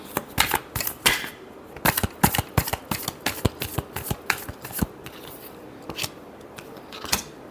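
Tarot cards are shuffled by hand in a quick series of crisp riffles and flicks, close and alone, with uneven pauses between the bursts.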